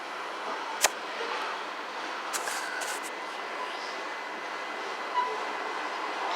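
An oil tank freight train rolls past on the track outside an apartment complex, a continuous even rumble and rushing of wagons with a few sharp clanks and squeaks, sustained at moderate distance.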